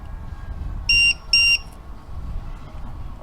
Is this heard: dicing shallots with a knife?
no